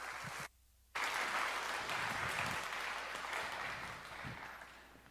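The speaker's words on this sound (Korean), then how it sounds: "박수로 환영하겠습니다." Church youth congregation applauds to welcome a preacher at a worship service; steady, moderately loud clapping fills the clip, with a brief dropout near the start.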